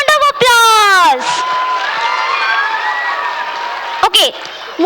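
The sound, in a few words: audience applause for students' performance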